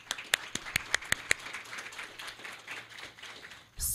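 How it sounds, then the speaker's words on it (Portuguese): An audience claps for a speaker being introduced at a data engineering talk, with a few sharp, distinct claps near the start followed by a softer, scattered spread of applause that fades before a loud burst at the end. "Uma salva de palmas,"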